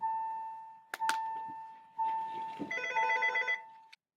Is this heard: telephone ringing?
yes